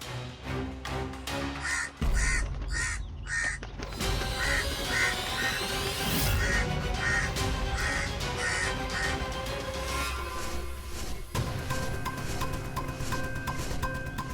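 Crows caw repeatedly in a mythological drama scene, harsh calls stacked in a dense, loud layer over busy background sound and music, with no one talking.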